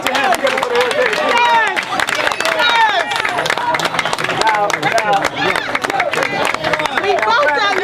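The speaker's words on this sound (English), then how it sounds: "Give a round of applause." A crowd at a Straight Black Pride gathering claps and cheers steadily for several seconds, the applause mixed with loud shouting and voices throughout.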